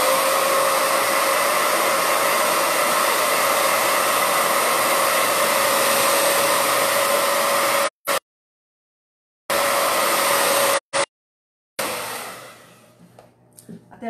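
Hair dryer running steadily on aged wooden crates while freshly applied colored patina paint dries, a loud continuous whir that cuts out twice briefly before trailing off near the end.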